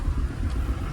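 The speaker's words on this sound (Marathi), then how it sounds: "एक गेली गाडी." A road vehicle passes close by on a crowded pilgrimage route in Pandharpur, a brief low engine rumble and tyre roar that swells and fades within a second, heard alone without talk.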